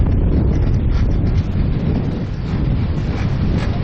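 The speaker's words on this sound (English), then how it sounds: "Look at how fucking windy it is." Strong wind buffeting a microphone outdoors on a sandy, windy spot, a loud continuous roaring rumble with gusty swells, no talking.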